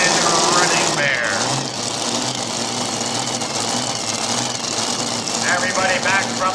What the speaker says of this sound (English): This is the wild horsepower. The modified tractor starts now.